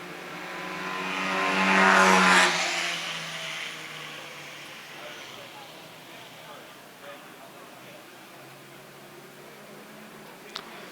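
Alfa Romeo GTV race cars, a white one numbered 95 and a red one numbered 74, battling at an Italian marque race on a 2.33-mile circuit. One car roars past loudly, rising and then fading into the distance, while a commentator talks throughout.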